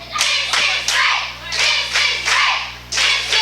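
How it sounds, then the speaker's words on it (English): A wrestling crowd at a CWF Mid-Atlantic Wrestling event chants in unison with rhythmic clapping, loud repeated phrases pulsing about twice per second. "Crowd chanting, "This is great" right now."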